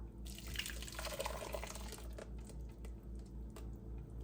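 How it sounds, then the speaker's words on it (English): Blended birria consomme poured back into a pot, a splashing liquid pour for about two seconds followed by quieter drips and trickles over a low background hum. "now that we have all of the consomme blended, we're gonna pour it back into the pot"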